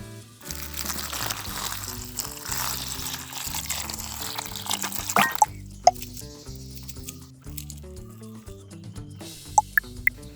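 Kitchen utensils being washed under running water: drips, splashes and pouring with soft clinks of items being handled, close by and uneven, no talk.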